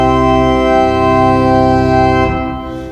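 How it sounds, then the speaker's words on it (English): Pipe organ pedal line on a 16-foot bourdon flute stop, a deep, steady, sustained tone that holds for over two seconds before releasing, with the room's reverberation lingering after. "bourdon is actually a flute, but it's the 16-foot and the pedal."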